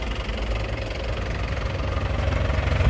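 Exhaust of an idling 2007 Toyota Touring Turbo car, heard up close as a steady, low rumbling idle with an even pulsing throb and no talk over it.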